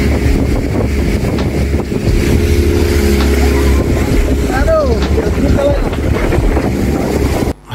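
A speedboat runs toward outer islands under overcast skies, its steady engine drone and water rush loud and close, with heavy wind buffeting the microphone and some voices faintly under the noise.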